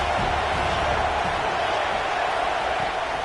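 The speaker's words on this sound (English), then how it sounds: "This crowd trying to make life miserable for this offense." Football stadium crowd at an Alabama versus Tennessee game, a dense, steady roar of many voices filling the air with no breaks.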